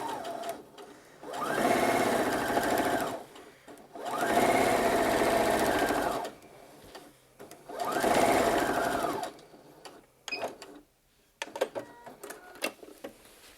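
A sewing machine stitches a pocket bag seam on tapered-leg Pietra pants in three loud, close bursts of steady whirring, with short pauses between them, followed by light handling clicks and rustles.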